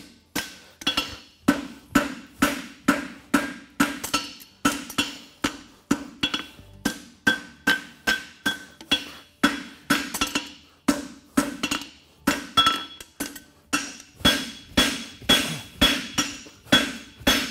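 A hammer strikes a racing horseshoe on an anvil, drawing the heel into a wedge: sharp metallic ringing blows in a fast, steady rhythm, each decaying briefly, continuing closely and loudly throughout with no voices.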